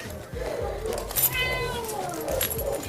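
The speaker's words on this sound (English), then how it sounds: "There's the kitties!" Cats at an animal shelter meow, one clear rising-and-falling meow standing out midway with softer mews around it, while a person talks warmly close by.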